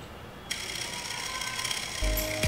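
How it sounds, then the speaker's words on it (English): A vintage mechanical counter running on AC power through a 12-volt transformer makes a steady, fast ratcheting buzz of clicks. A low hum and a brief whir join in near the end, fairly quiet and with no speech. "Unlike the digital counters, these counters make noise."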